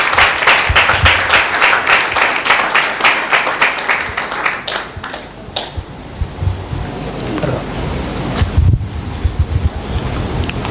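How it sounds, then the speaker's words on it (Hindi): A congregation at a Sunday church meeting claps hard with quick, dense, fairly even claps for several seconds. The clapping then thins and fades into a rushing, noisy room sound. "एक जोरदार ताली देते हैं परमेश्वर की महिमा के लिए"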